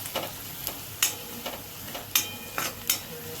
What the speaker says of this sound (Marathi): थोडीशी हळद, थोडासा किचन किंग मसाला आपण परतून घेऊया.